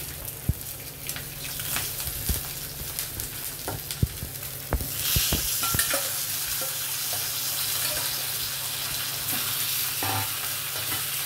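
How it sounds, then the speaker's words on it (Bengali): Nigella seeds and green chilies hit hot oil in a Bengali fish curry pan, starting with scattered clinks and stirring before a strong, steady sizzle swells up halfway through and holds to the end. "কালো জিরে ফোড়ন দিলাম, কাঁচা লঙ্কা দিলাম"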